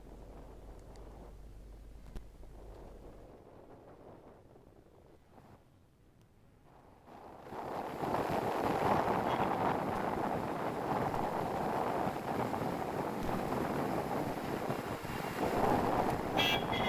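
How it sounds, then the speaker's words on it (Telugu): Floodwater roars through the raised gates of Prakasam Barrage on the swollen Krishna river, a dense, steady rushing that swells loudly after a quieter, windier opening and then holds constant, with wind buffeting the microphone. "బ్యారేజ్ మొత్తం గేట్లు ఎత్తి కిందకు నీటిని విడుదల చేస్తున్నారు"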